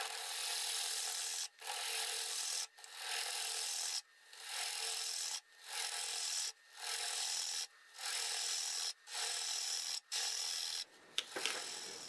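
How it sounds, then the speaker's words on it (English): A gouge hollows bone-dry, rock-hard box elder on a lathe, making a bright scraping hiss in repeated even passes of about a second each, separated by short breaks. A final rougher scrape closes the sequence. "Switch back to a 5/8, start hollowing this out deeper, and we'll come and clean this up."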